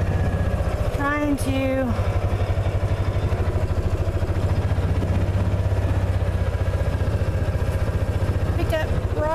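A vehicle engine idles and runs steadily as it drives around a homestead gathering rocks for a raised garden bed, a continuous low hum under someone talking throughout.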